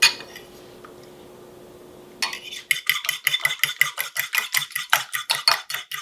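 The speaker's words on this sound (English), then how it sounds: "I'm just going to whip these up a little bit with my fork just to break them up" A fork whisks eggs and heavy whipping cream in a bowl, starting after a quiet moment with a rapid, even series of close metallic clicks and swishes that keep a fast rhythm to the end.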